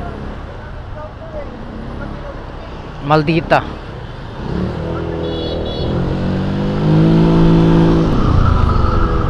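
Evening road traffic, a constant roar of passing cars and motorcycles with engines revving and a horn-like tonal sweep midway, while someone talks over the noise.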